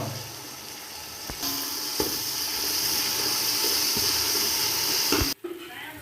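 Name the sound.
tomatoes added to hot pan, sizzling for chicken biryani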